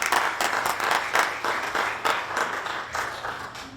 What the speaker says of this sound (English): give a quick round of applause